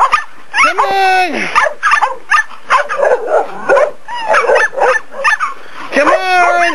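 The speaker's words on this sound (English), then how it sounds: "Come on, puppy, puppy, puppy!" Bully puppies yipping and barking in high-pitched, excited bursts with whimpers, close by and mixed with a person's eager calls.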